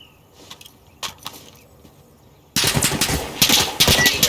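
Gunfire in the video game Insurgency Sandstorm, beginning with a few scattered distant shots and then breaking into loud, dense rapid-fire bursts for the rest of the clip.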